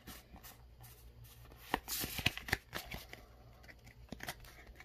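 Hands open a Pokémon Sword and Shield booster pack and handle the cards, with soft foil crinkles, paper rustles and light card flicks up close. The sound is quiet and irregular, and no one speaks.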